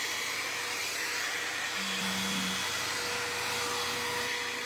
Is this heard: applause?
no